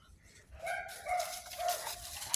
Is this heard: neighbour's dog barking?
yes